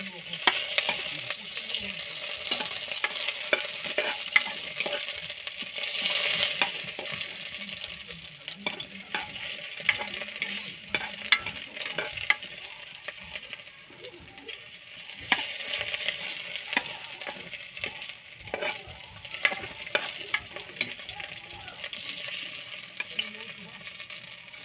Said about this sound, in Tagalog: Gigisa na natin tong bawang, luya, sili.